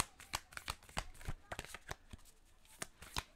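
Tarot cards are shuffled at close range for a reading, giving a quick run of uneven papery slaps and riffles, some sharp and some soft, with brief pauses between bursts.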